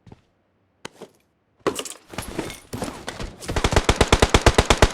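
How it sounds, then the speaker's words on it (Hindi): Gunfire in PUBG Mobile coming from a tower: a few isolated shots, then ragged bursts, ending in a rapid, evenly spaced automatic volley, loud and close. "ये टावर से भी फायरिंग आ रही होती है।"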